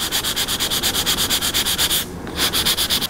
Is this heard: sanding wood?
yes